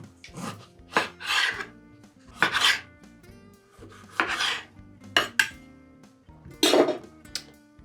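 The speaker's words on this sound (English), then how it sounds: "Add my straw to give it a stir to mix those ingredients." A straw stirs ice in a gin and tonic, giving close, bright clinks and scraping rattles in several short bursts with quiet gaps between them.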